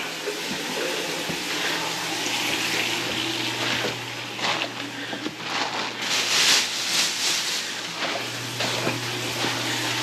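Water runs steadily and drains down a main drain just cleared with a camera at the toilet flange, a continuous close gushing and trickling with a low hum beneath it.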